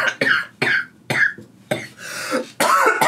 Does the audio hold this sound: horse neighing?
no